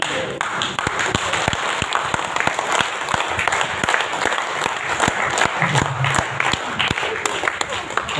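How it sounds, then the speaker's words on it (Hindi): Audience applause at a business seminar in Guwahati, Assam: a steady, dense wash of many hands clapping throughout, with sharp individual claps standing out and a faint voice briefly audible beneath. "तो ऐसे लोग ताली कैसे बजाते हैं?"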